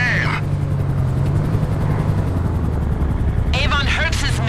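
Helicopter-style rotor and engine drone of an aircraft flying in GTA 5 Online, a loud steady low rumble throughout with brief bursts of other game sounds at the start and end.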